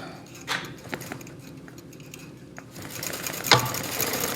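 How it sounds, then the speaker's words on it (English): A Gammill longarm quilting machine stitches steadily with a fast mechanical whir and hum that sits near the listener, with a few sharper clicks and knocks and a louder burst of running near the end. "you're listening to the sounds and your machine is stitching"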